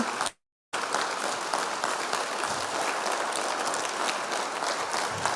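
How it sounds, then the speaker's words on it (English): Sustained crowd applause at a St. Clair County Republicans Illinois governor candidates forum, thanking the event organizers, broad and even after a brief dropout near the start. "A round of applause for Cheryl and the team."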